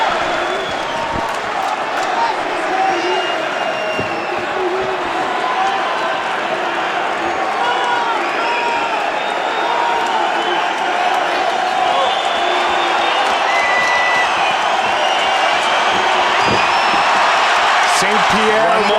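An arena crowd at a UFC fight, Georges St-Pierre against Nick Diaz, roars and chants continuously in the background, a steady wash of cheering beneath close commentary voices talking throughout.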